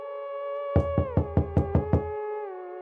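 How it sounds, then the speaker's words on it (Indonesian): Seven quick, sharp knocks rap on a kitchen window in an even burst over a sustained eerie tonal drone, then stop as the drone continues. "Jendela dapur diketuk seseorang."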